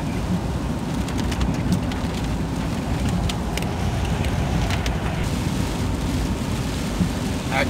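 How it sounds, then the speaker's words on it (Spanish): Heavy rain downpour drums on a moving car on an open road, a dense, steady hiss and patter with low road rumble underneath, loud and continuous throughout. "Ahora sí, nos cogió un aguacero"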